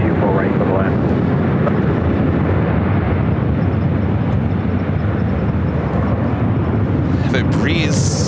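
An Airbus A350 airliner landing on runway 24 right at Los Angeles airport. It gives a loud, steady, broadband engine roar throughout, while a person talks over it.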